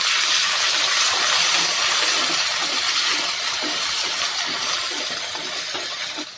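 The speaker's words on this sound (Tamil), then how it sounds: "இப்போ இந்த வெங்காயம் நல்லா ப்ரௌன் கலர் வர வரைக்கும் நல்லா வதங்கணுங்க" Small shallots and a large onion fry in hot oil for a Tamil fish curry, producing a constant bright sizzling hiss with faint crackles, close and steady throughout.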